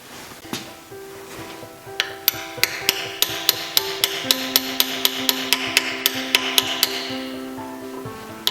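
A seal is tapped into a Porsche 902 transmission case with a steady series of light, ringing metallic hammer taps, close and evenly spaced, over a faint background hum.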